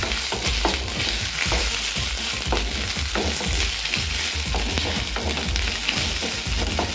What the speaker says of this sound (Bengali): ওটাকে আবার ভালো করে ফ্রাই করে নেব।